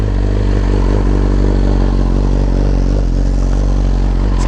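A BMW S1000RR sport bike fitted with a new exhaust idles loud and close, its steady rumbling engine note holding throughout with slight throttle variations and no talking.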